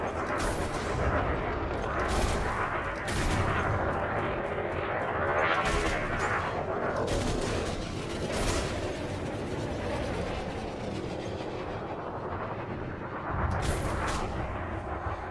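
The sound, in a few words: shock cannon fire from the video game Elite Dangerous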